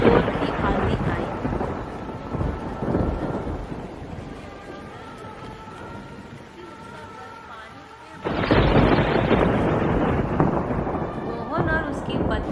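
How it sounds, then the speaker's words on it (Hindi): Heavy night storm with gusting wind and rumbling roar that eases in the middle, then surges back loud and broadband; no talk over it. "एक रात बहुत जोर की आंधी आई।"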